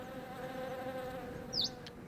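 Longhorned bees buzz around Webb's bugloss flowers on La Palma in the Canary Islands, a faint, close insect drone. One short, brighter buzz pass comes near the end.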